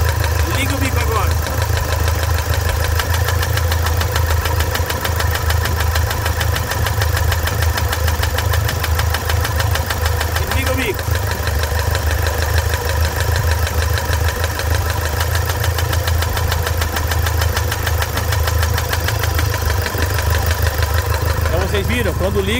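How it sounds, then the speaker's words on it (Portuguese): Toyota SW4 diesel engine idling with a steady rhythmic knock from a faulty injector, close and continuous throughout, while people talk over it. "Desliga o bico, para o barulho, liga ele faz o barulho"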